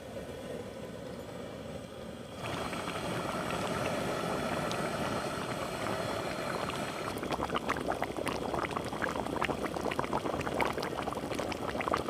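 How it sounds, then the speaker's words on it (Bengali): Chicken curry with fried potatoes boils in a pot: a low bubbling that jumps to a louder, busier simmer after a couple of seconds and keeps churning, with no talking. "দিয়ে দেবো ভেজে রাখা আলু দিয়ে মাংসটাকে খুব ভালোভাবে ফুটিয়ে নেবো"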